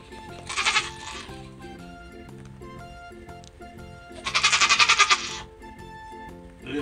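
A newborn bay goat kid gives two loud, close, wavering bleats, one short and one longer and more quavering, with quieter background noise between them.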